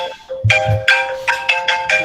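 A telephone ringtone sounds on a call-in talk show's phone line: a bright electronic melody of repeated short tones in a steady rhythm, fairly loud and heard alone.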